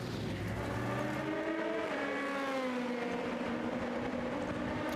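A Le Mans prototype race car pulling away from the pits at the 2017 24 Hours of Le Mans, its engine revving up through rising gear pitches, loud and continuous as it departs.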